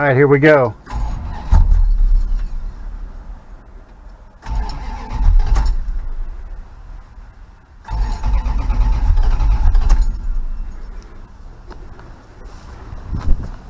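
A big block Mopar Dodge engine with a new fuel pump phenolic spacer and the choke pulled off cranks and rumbles in three loud low bursts with pauses between them. A voice speaks briefly at the start.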